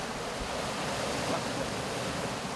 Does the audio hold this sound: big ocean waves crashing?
yes